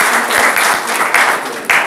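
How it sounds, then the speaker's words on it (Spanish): Audience applause at a gathering, breaking out in several short bursts of clapping across the two seconds, fairly loud and close, with brief pauses between surges. "Un aplauso."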